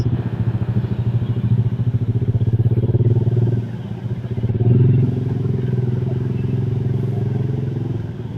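A Honda Vario scooter engine tuned up with a 55 piston revs hard and close, its throbbing drone rising and falling over several seconds, with a brief dip midway before climbing again.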